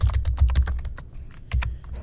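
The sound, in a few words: typing on a computer keyboard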